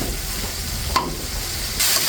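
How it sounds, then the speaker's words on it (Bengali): Spice paste fries in a small amount of oil while being stirred, for a shrimp dish with pumpkin leaves, a steady close sizzle with one brief scrape midway and a brighter hiss toward the end, no talk. "এখন আমি একটু নেড়ে ছেড়ে কষিয়ে নিচ্ছি।"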